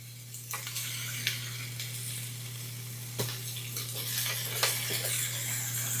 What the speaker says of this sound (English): onions and my peppers to the pan. And it says that we're going to cook these quickly until they are browned up.